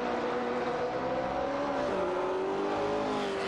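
Race cars, a Porsche 908 and a Ford GT40, battling for position in a video game race, their engines droning steadily with shifting pitch as they rev, loud and continuous throughout with no voices.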